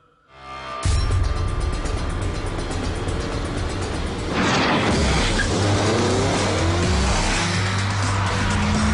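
A Tesla electric car with a one-speed gearbox pulls away from a standstill, its loud, even whirring roar building steadily with tire and road noise close by. It swells stronger about halfway through as the speed climbs, with no talk.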